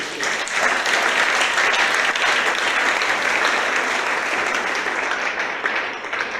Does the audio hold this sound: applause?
yes